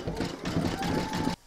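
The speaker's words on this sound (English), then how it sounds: "you're going to stitch round number 17, and that's going to do the satin stitching around the edge and top of" An embroidery sewing machine runs a round of satin stitching around the edge and top of a witch's boot shaft, a steady mechanical whir with a faint hum that stops abruptly near the end.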